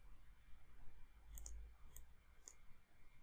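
Three crisp computer mouse clicks, evenly spaced about half a second apart, sound close against a quiet room hum during a design software lesson.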